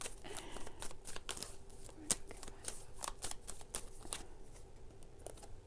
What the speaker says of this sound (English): I'm gonna pull some cards before I start reading